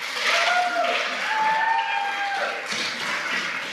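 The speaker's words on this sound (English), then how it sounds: "Let's give them one big round of applause for helping out." Applause from an audience at a 5th grade awards ceremony for student helpers, steady moderate clapping heard from a distance with some vocal tones mixed in.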